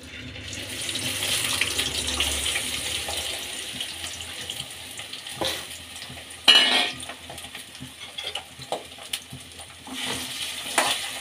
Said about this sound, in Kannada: ಎಣ್ಣೆ ಕಾಯ್ತಿದೆ. ಈಗ ಹೆಚ್ಕೊಂಡಿರೋ ಆಲೂಗಡ್ಡೆನ ಹಾಕ್ಕೊಳ್ಳೋಣ.